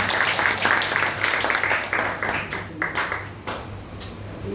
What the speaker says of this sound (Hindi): आप सहमत हो तो ताली बजा सकते हैं।